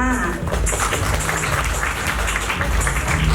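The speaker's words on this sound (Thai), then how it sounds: "ขอเสียงปรบมือต้อนรับด้านบน เวทีเลยนะคะ" An audience claps to welcome the jury chairman onto the stage at a Thai contemporary fabric design contest. The applause is dense, steady and close, with a voice audible at the very start.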